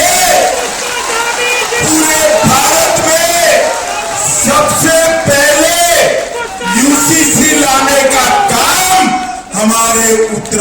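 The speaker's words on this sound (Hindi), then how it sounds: "जोर से ताली बजाओ पुष्कर धामी के लिए" A large crowd at a political rally in Uttarakhand roars and cheers steadily, a loud, dense mass of voices with shouts rising and falling for several seconds.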